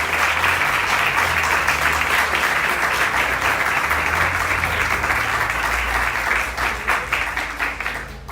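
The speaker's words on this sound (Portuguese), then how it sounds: "Você pode receber o servo do Senhor com as palmas" A church congregation applauds to welcome the pastor, a dense, steady wash of clapping from many hands that holds loud throughout and thins slightly toward the end, with no talking over it.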